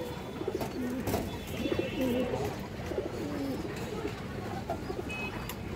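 Several high-flyer and other breed pigeons for sale cooing softly in repeated throaty bursts, fairly close, with faint background noise and occasional voices.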